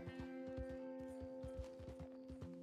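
Horse hooves in a Wild West game with an Appaloosa horse, a steady quick clip-clop of hoofbeats trotting close by over a faint sustained tonal hum, no talk.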